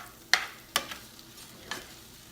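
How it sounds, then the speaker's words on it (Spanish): Shrimp being stirred in a skillet, with three sharp scraping clatters of the utensil against the pan over a soft, steady frying sizzle. "vamos a revolver esto, los camaroncitos, con lo que teníamos aquí en el sartén"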